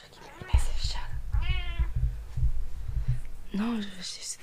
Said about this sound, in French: C'est quoi ce bruit? C'est le chat qui me... Mais c'est le chat.